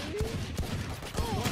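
Gunfire in the video game Valorant, with several sharp shots in quick bursts, moderately loud, in short irregular clusters.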